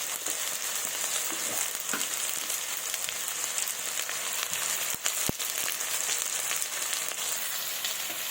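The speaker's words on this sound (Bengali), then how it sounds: "একটু লাল লাল করে ভেজে নেব" Potato pieces fry in a hot wok with salt and turmeric, giving a steady close sizzle and crackle with occasional stirring scrapes and one sharp clack; no one speaks.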